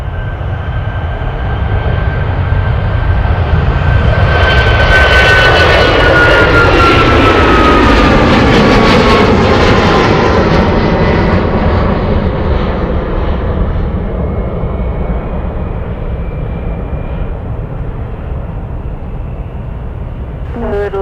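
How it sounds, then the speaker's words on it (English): An Alaska Airlines jet in the West Coast Wonders livery, flight 363 bound for Seattle, roars loudly for about twenty seconds as it passes at Anchorage, the broad engine rumble swelling then easing with a rising whine. "We have the West Coast Wonders livery, Alaska Airlines"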